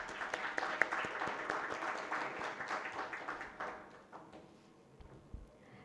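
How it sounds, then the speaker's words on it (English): Audience applause at an event in a hotel hall in Goa, a fairly full round of clapping that rings out, then thins and fades to a few scattered claps. "Can we have another round of applause?"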